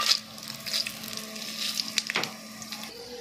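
Phoran tempering spices sizzling and crackling in hot oil in a home kitchen, a soft steady fry with small pops, close and fairly quiet.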